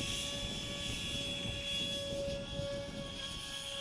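Cardboard electric ducted fan model plane in flight, a steady high-pitched whining whir, faint and constant with slight wind noise underneath.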